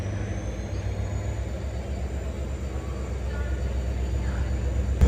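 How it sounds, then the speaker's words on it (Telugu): A long-distance train departs a station bound for Delhi, a steady low rumble of rolling stock and engine rising slightly in loudness as it pulls away, with no voices over it. "ఢిల్లీ వెళ్తుంది ఆ ట్రైన్ ఇప్పుడు."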